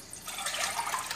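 Water pours steadily into a cooking pot being readied for raw basmati rice, a close, continuous splashing stream that builds over about a second with no talk.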